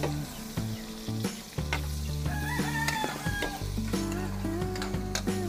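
Chopped onions hit a hot frying pan with a steady, loud sizzle and crackle, punctuated by scraping stirs and clinks of a utensil against the pan, along with a faint tonal hum underneath.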